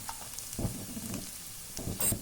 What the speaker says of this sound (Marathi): ही आता डाळ आपण पाहूया, छान कडक झालेली आहे